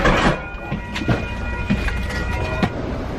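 Amtrak Sunset Limited passenger train pulling out of Lordsburg station in New Mexico, heard from on board: steady rolling rumble with rhythmic clicks and clanks of the cars over rail joints, no talk.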